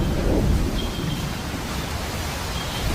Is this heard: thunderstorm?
yes